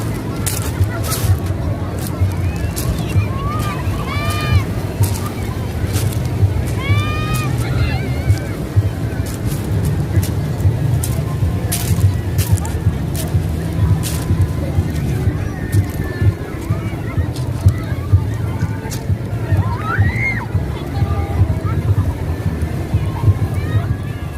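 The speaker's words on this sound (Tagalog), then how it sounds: "Ang iingay ng mga bata, tuwang-tuwa sa alon." Children shout and squeal with delight while playing in the sea waves at a beach in La Union, their bright cries rising over a constant roar of surf and wind, with adult voices mixed into the babble.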